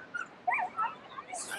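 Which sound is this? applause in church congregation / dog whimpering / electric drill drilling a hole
dog whimpering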